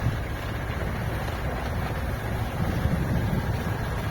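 Sailboat under full sail with its engine running, a steady low rumble mixed with wind buffeting and rushing water, continuous and close.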